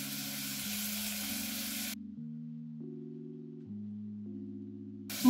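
Onions frying in a pan give a bright, steady sizzle for about two seconds, which then cuts out and leaves soft sustained background music.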